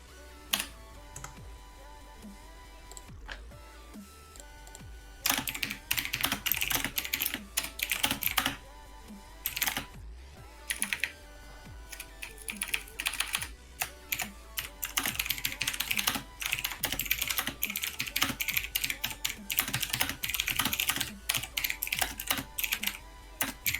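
A computer keyboard is typed on in irregular bursts of rapid clicky keystrokes, close and fairly quiet, with short pauses between runs.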